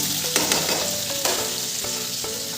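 Potatoes with a whole bay leaf fry in oil in a pan with a constant close sizzle, punctuated by a few sharp scraping strokes of a stirring utensil, without speech.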